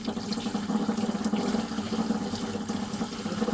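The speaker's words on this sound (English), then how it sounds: "You gotta wash the bowl." Tap water runs steadily into a sink as a bowl is rinsed, a continuous close splashing stream with slight fluttering variations and no voices.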